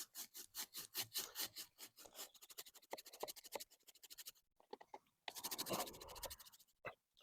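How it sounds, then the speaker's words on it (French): A brush scrubs a motorcycle chain coated in cleaning product, giving a rapid, rhythmic rasping in close back-and-forth strokes, a short pause, then another burst of scrubbing. "je viens directement frotter la chaîne avec la brosse"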